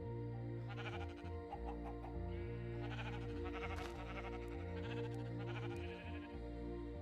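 Sheep bleating in the Minecraft video game on a farm build, several short nasal bleats that overlap and repeat in quick succession, clear and close.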